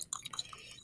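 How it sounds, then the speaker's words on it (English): A spoon stirs in a glass of water, making a few quick light clinks and taps against the glass, close and fairly soft. "stir it up in the water. And stir, stir, stir, stir, stir"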